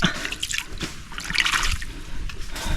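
Water in a farm stream runs and splashes steadily nearby, a continuous bright trickling wash with small dripping and splattering accents throughout.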